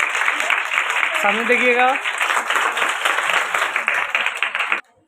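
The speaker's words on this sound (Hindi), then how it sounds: "जोरदार तालियों" Loud, dense applause fills a Hindi Day gathering at RBC College in Naihati, sustained for nearly five seconds before stopping abruptly, with a voice speaking briefly over it near the start.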